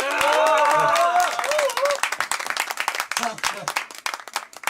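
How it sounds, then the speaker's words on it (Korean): Audience clapping and cheering at an MC academy graduation ceremony, starting as full applause under a loud voice and then thinning into scattered individual claps that fade unevenly. "우리 김영애 팀장님 박수 한번"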